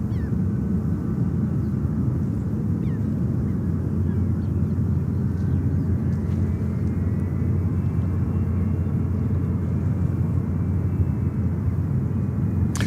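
JetBlue Airbus A321neo jet airliner at JFK airport, a steady low broadband engine roar that holds evenly throughout, with a faint rising whine, and no talk.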